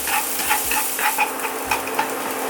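Shredded ginger stir-fried in salmon-skin oil in a pan, a constant crackling sizzle with a quick run of spatula scrapes and taps, heard up close with no one speaking.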